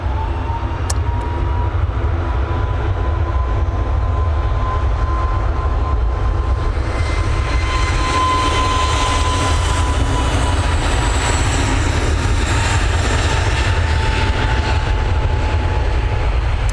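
A Cathay Pacific airliner lands at Manchester Airport, heard as a loud, steady broadband roar with a faint engine whine, continuous throughout and rising slightly in brightness toward the end.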